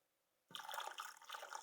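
Water poured into a turkey brine: after half a second of near silence, a steady splashing gush of liquid begins and continues, close and moderately loud.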